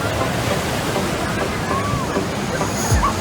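Rough surf at Chiquita Beach makes a loud, continuous wash of crashing waves, with faint voices mixed into the steady roar.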